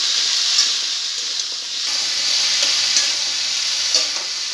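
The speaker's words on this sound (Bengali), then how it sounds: "আর দিয়ে দেবো হলুদ। ভালো করে ভেজে নেব।" Chunks of potato and taro fry in hot oil with salt and turmeric, giving a loud, steady close-up sizzle and hiss with occasional stirring scrapes throughout.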